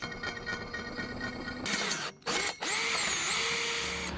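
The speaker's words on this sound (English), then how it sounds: "I'm drilling the hole for that wire." A power drill whirs steadily up close while drilling a hole in a sailboat rail, pauses briefly twice, then spins up again at a higher pitch, running continuously to the end.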